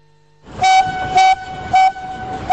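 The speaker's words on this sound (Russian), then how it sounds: "Юбилейный экспресс подоспел к началу торжества." Children's railway train arriving at a railway workers' celebration, horn sounding in three loud, evenly spaced blasts over a rumbling running train.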